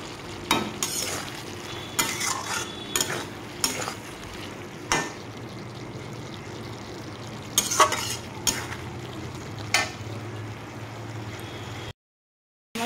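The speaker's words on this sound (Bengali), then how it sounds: "তো সয়াবিনটা আমার ভালোভাবে কষানো হয়ে গেছে।" Soybean chunks being stirred and sautéed in a pan, a quiet sizzle broken by repeated sharp scraping strokes of a spoon against metal, then a brief silence.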